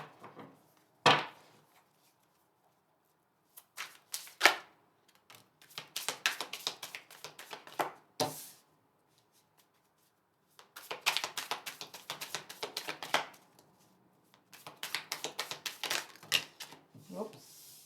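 Tarot cards shuffled and drawn onto a table: bursts of rapid riffling flutter broken by sharp single taps and slaps, close and crisp, with quiet gaps between runs.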